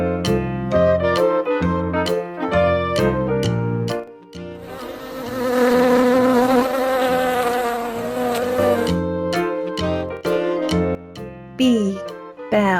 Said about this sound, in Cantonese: 蜜蜂。